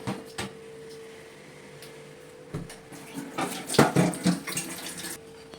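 A coconut is washed under running tap water, with splashing and a steady trickle that grows busier and louder midway, plus clunks from handling at a sink, close and without voices.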